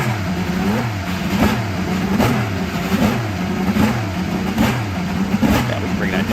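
IndyCar engines from a racing video game at Indianapolis rev and whine continuously, with repeated rising pitch sweeps from several cars, loud and steady, while people talk over it.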